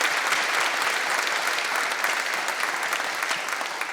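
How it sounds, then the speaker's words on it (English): An audience at a 2026 State of the City presentation in St. Charles, Illinois applauds Mayor Vitek, a steady, dense round of clapping from many hands that holds for several seconds and tapers slightly at the end. "if we could give a round of applause to Mayor Vitek and the others"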